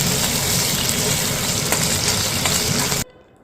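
Green chillies frying in hot oil with mustard and cumin seeds, a loud, steady sizzle with scattered pops and crackles that cuts off abruptly near the end.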